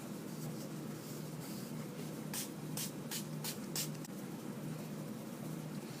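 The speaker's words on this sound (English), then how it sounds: "I'm going to set my face with the Honest Beauty setting spray" Several quick, sharp hissing spritzes of an Honest Beauty setting spray bottle onto a face in a rapid series, close by over a low steady background hum.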